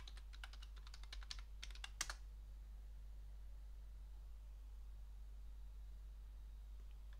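Computer keyboard typing a Linux terminal command on a Debian 12 system, heard as a quick burst of close key clicks in the first two seconds, then steady hum and hiss with no talking.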